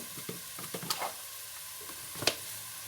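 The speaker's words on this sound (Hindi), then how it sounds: "अब इसको हम थोड़ा सा ऐसे भूनेंगे" Whole spices, including cinnamon pieces, sizzle softly in hot oil for chicken pulao, with a few sharp spoon scrapes and stirring clinks against the pan over a quiet frying hiss.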